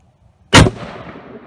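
A single sharp, loud rifle shot from a Browning BAR Mark II Safari, fired close with a booming report that decays into a short outdoor echo tail.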